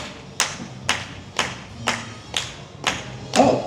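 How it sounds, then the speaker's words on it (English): At a Mardi Gras show, a crowd claps along in a slow, even rhythm, seven evenly spaced loud claps about half a second apart with faint room noise between them. "All right, everybody, clap along like this."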